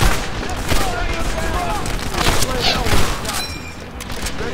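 Gunfire in the World War II shooter Medal of Honor Airborne, dense bursts of rifle and machine-gun shots with booms over a constant loud battle din.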